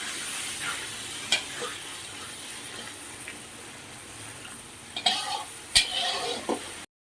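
Yogurt hitting a chili-turmeric masala already fried down in oil: a steady broadband sizzle with a few sharp utensil knocks and stirring clatters near the end, no voices.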